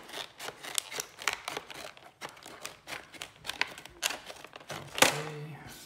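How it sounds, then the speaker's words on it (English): Scissors snip through tight plastic packaging around a TI-84 Plus CE graphing calculator, a close series of sharp, irregular crisp cuts and crinkles that ends in one louder snap. "Might have to cut to the side here as well."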